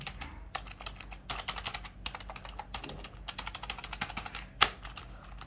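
Rapid clacky keystrokes on an HP GK1100 mechanical keyboard in irregular bursts, close and clear, with one sharper, louder key strike near the end.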